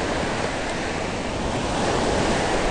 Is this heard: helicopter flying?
no